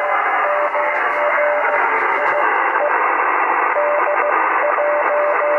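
A German station received on an 80m four square antenna comes through a ham radio receiver as a steady wash of hiss and static, with a faint intermittent tone and weak voice-like modulation buried in the noise.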